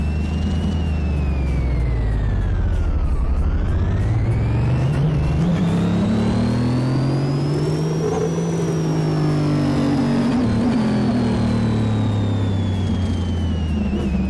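A car engine in Car Mechanic Simulator 2018, a Hot Wheels Twin Mill on a dyno, revs loudly and steadily for the whole stretch, its pitch sweeping down, climbing again and then easing, with a high whine over the throaty drone.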